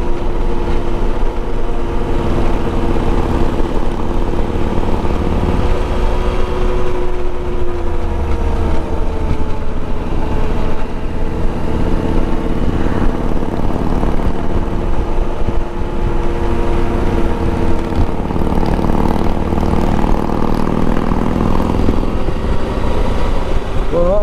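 A Yamaha XT1200 Tenere motorcycle is ridden along, its engine a loud, steady drone mixed with rushing wind that runs continuously throughout.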